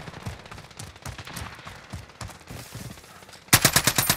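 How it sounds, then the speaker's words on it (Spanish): Rapid automatic gunfire in the video game Warzone erupts loud and close near the end, a dense burst of repeated shots after a stretch of quieter game ambience. "¡Disparan!"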